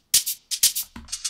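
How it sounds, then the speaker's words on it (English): Shaker sample in Ableton for a piano house track: a few quick, bright, airy rattling strokes in a short rhythmic pattern, played alone. "we've got this shaker, I think this is a big Z,"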